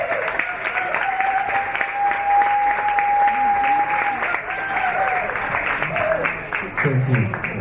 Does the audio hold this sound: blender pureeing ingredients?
no